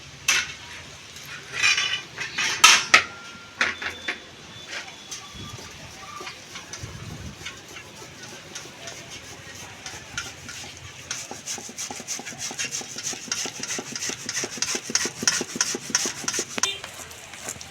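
Ripe palm fruit pulp is rubbed out by hand against a grater, a steady wet rasping and scraping in quick repeated strokes, with occasional clinks of a utensil and faint talk nearby.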